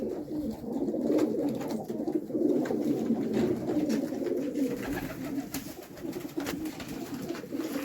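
Pigeons cooing in a loft, several birds giving soft repeated low coos that overlap continuously, close by with a slight background murmur.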